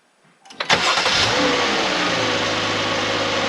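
A Jeep V6 engine cranks and catches after an oil filter adapter install, then settles into a steady, loud idle close by.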